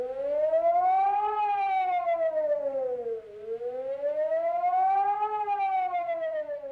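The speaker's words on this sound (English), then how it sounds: "When you hear the alarm signal," A loud Singapore Public Warning System civil defense siren sounds the alarm signal, wailing continuously, its pitch rising and falling in slow sweeping cycles, with nothing else audible.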